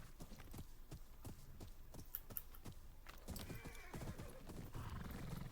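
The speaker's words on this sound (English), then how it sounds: "let me call my horse. Let's do some riding really quick." Horse hooves clip-clopping in a steady trot while riding in a video game, with a whinny partway through, fairly loud and alone over a faint game ambience.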